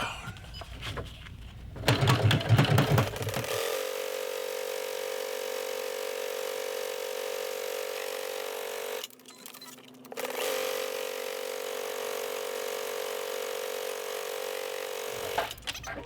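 A sewing machine stitches a strap for a tote bag made of Kraft-Tex, running in a steady, fast continuous whir. A brief pause in the middle breaks the run before the motor starts up again, close and fairly loud.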